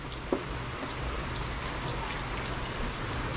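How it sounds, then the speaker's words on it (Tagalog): Heavy rain falls steadily on a surface, a dense continuous wash of drops at even loudness for the whole stretch, with one brief knock near the start and no voices. "Grabe yung ulan"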